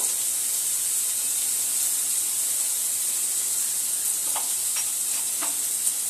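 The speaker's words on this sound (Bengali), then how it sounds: "আলুটা তেলের মধ্যে খুব সুন্দরভাবে আগে লাল লাল করে ভেজে নেব।" Potatoes frying in hot oil with turmeric for chicken singara filling, a steady broad sizzle running throughout with a few brief stirring scrapes near the end.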